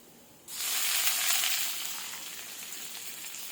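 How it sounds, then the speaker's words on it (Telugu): Green chillies dropped into a pan of frying small onions set off a sudden loud sizzle that gradually settles into a steady, slightly fainter frying hiss, heard close up with no talking. "పచ్చిమిర్చి వేసుకొని కొంచెం ఫ్రై అవనిద్దాం."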